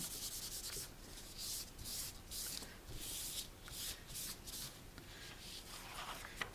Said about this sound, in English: we're just rubbing that and getting as much of the excess oil off as we possibly can